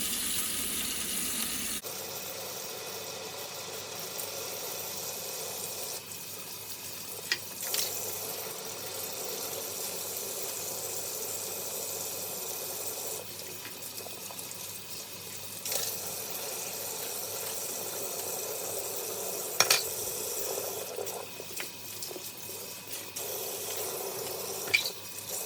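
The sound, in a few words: rinsing vacuum cleaner caps and handle under running tap water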